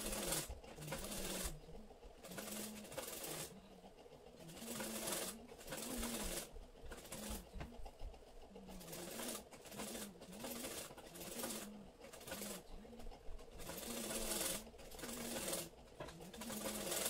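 A sewing machine stitches lace onto a 38-inch katori blouse, running in rhythmic bursts of rapid needle chatter with short pauses between passes. It stays steady and close, with no talk.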